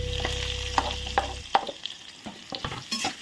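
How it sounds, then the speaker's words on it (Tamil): Chopped onions sautéing in a pan for a simple brinjal gravy, with a spoon scraping and knocking against the pan over a light sizzle, close and moderately loud, while a low steady hum drops out partway. "வெங்காயத்தை போட்டுக்கலாம்."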